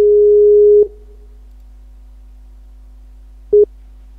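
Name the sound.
telephone busy signal while calling again on Skype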